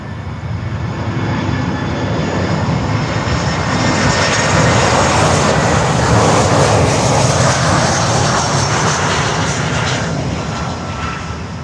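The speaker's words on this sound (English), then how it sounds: "And now LATAM A320 here on runway 9." Steady, loud jet engine roar from a LATAM Airbus A320 airliner on the runway at Miami International Airport, a broad sustained rumble that swells slightly toward the middle and holds for over ten seconds.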